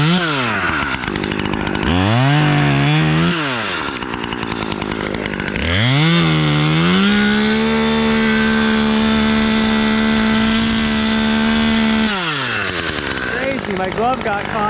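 A chainsaw cuts down a termite-infested fir, revving loudly up and down in short bursts before holding a long, high, steady whine, then dropping and revving again.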